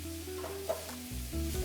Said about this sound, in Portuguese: como a panela está muito quente, já frita muito rápido esses ingredientes no tostado